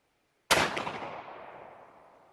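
A single loud, close muzzle-loading rifle shot fired with a front set trigger, a sharp blast that rolls off in a long fading echo, with no talk.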